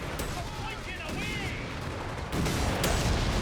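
In a Company of Heroes 3 match, an anti-tank Overwatch strike falls from the sky, a burst of rapid explosive fire and booms that swells louder near the end.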